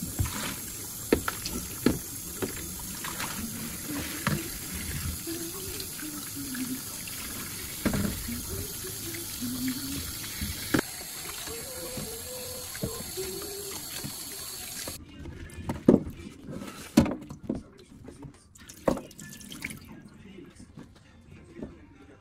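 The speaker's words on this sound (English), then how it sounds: "it's time to wash all the ingredients clean" Cooking ingredients washed under a running tap, water pouring and splashing steadily with knocks and rustles of handling, then quieter splashes and clunks near the end.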